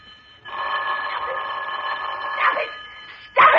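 Old-fashioned telephone bell ringing in a suspense radio drama, a steady continuous trill filling the room at close range and fairly loud, with no voices over it.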